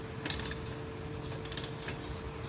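Brake nut tightened with a wrench, small metallic ratcheting clicks in two short bursts with fainter ticks between, close and fairly quiet.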